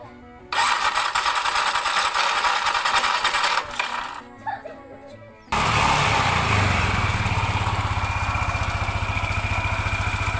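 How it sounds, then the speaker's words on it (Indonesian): A Yamaha NMAX/Aerox scooter, with its drive belt, rollers and clutch being serviced, is started up, giving a loud rough mechanical roar that drops briefly and then settles into a steady, close engine run. "Selanjutnya nanti kita akan hidupkan ya motornya."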